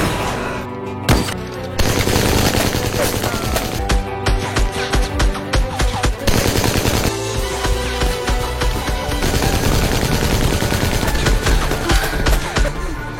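Rapid bursts of gunfire in a police shootout from a film crackle and boom close and loud, sustained volleys continuing almost nonstop over dense action noise.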